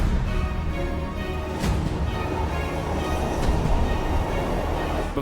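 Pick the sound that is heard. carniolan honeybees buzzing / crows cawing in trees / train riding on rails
train riding on rails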